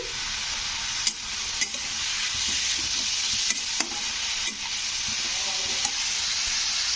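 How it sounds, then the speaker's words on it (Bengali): Chopped bottle gourd frying in a pan on a gas flame, stirred with a spatula: a loud continuous sizzle broken by regular scraping strokes and clicks, close up and with no voice. "এইভাবে নাড়তে হবে লাউটাকে আর ওভেনের ফ্লেমটা আমি একটুখানি জাস্ট বাড়িয়েছি"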